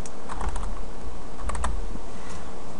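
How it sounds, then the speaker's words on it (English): Close, steady keystrokes clatter on a computer keyboard, a brisk run of typing with no voices. "I need to type in the folder or the directory name"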